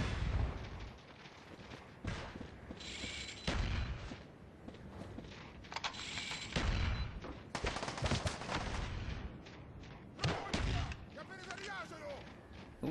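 Bursts of gunfire in Call of Duty: Black Ops Declassified, sharp cracks and rattling volleys coming in irregular clusters over game background noise, loud and close.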